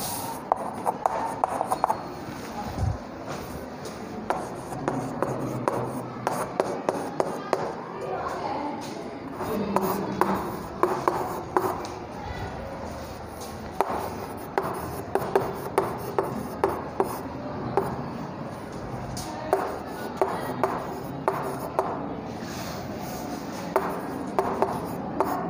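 Pen scratching on paper while notes are written out, steady rasping strokes with frequent small taps, running under a voice speaking Hindi throughout.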